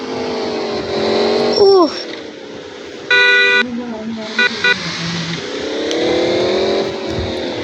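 A car on a test ride hums along with its engine rising and falling, and a horn gives a brief toot partway through. Someone speaks over the motor at times, and the whole scene sounds near and fairly loud.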